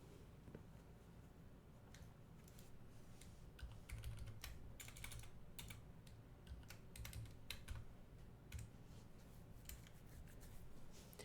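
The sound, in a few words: typing on a computer keyboard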